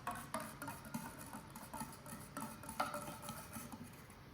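A solution stirred in a plastic cup during a chemistry temperature measurement, giving soft rhythmic clinks and scraping taps repeated every half second or so, faint and close.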